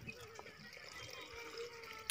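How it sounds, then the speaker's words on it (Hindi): Hot water is poured into crumbled rice flour for making rice pua roti, giving a soft, brief trickling and splashing close by. "वो जो गर्म पानी जो है वही पानी उसमें फिर डालेंगे"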